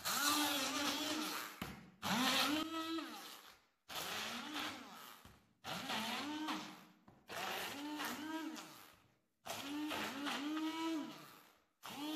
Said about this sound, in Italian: e frulliamo